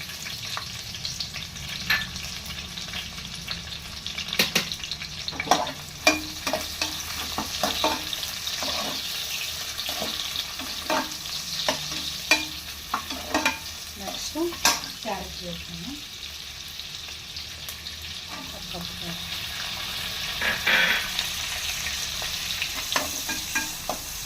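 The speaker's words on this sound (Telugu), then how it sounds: "ఓకే నేను ఆయిల్ హీట్ ఎక్కింది కదా కట్ చేసుకుని ఆనియన్స్ వేసుకుంటాను" Onions frying in hot oil for street-style noodles, a continuous sizzle broken by frequent scraping and clattering stirring strokes, close and fairly loud, no talk.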